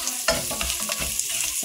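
White onion frying in a pan for ginataang hipon with kalabasa, sizzling close up while a utensil stirs and scrapes through it in several short strokes.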